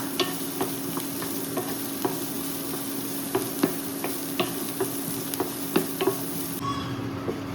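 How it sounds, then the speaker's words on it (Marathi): Finely chopped onions fry in a pan with a steady low sizzle, broken by regular light scraping and stirring clicks. The sizzle fades at the end. "आनी बारीक चिरल्या. तळसून घेता."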